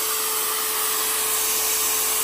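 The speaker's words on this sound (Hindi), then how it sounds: "ये ड्रिल मशीन को भी हमने इसके ऊपर स्टार्ट किया है और ड्रिल मशीन हमारी बेहतरीन तरीके से काम कर रही है।" An Ingco 680-watt electric drill runs unloaded on a Sunchonglic 1000W solar inverter, giving a steady, continuous motor whine that stays loud and even throughout.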